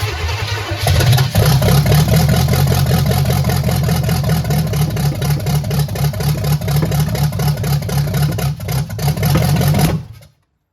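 A 1968 Chevelle V-8, swapped in for a straight six, runs roughly with a carburetor fault starving it of fuel, a loud, uneven, sputtering idle with rhythmic missing pulses that cuts off abruptly near the end.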